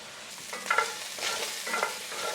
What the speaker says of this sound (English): we're just rendering down that fat and developing some color on the pieces of pork